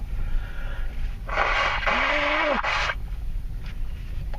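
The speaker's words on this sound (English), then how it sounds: "So I'm about to blow my nose right in front of your face." A short, forceful nose blow into a tissue inside a car, a breathy honking burst lasting about a second and a half, heard close up against quiet background.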